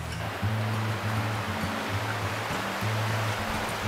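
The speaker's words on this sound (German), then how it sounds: "Ein Bach, der unter den Häusern durchgeht." A stream flowing beneath houses in the lakeside village of Hallstatt, a steady broadband rush of water heard close and alone, with a low hum running underneath.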